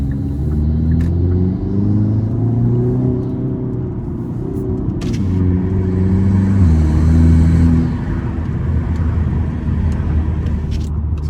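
Hyundai Elantra N with an aftermarket intake, a steady loud engine rumble while driving that swells slightly under acceleration, heard from inside the car with no talk.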